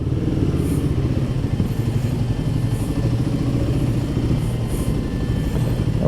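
A Royal Enfield Guerrilla 450 motorcycle rumbles steadily at close range, its engine running at a low, even note with some mechanical clatter as it is ridden and eased into a parking spot.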